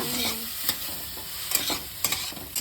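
Chicken sautéing in a pressure cooker gives a soft, steady sizzle, broken by several sharp scrapes and clinks as a spoon stirs the pot, close by with no talking.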